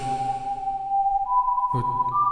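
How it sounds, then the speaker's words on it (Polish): An ominous, steady whistled tune from the wolf, Death, in the animated film Puss in Boots: The Last Wish, one sustained tone that steps up in pitch and stands out clearly over low background music. "gdy słyszę to gwizdanie, to reaguje tak samo jak puszek"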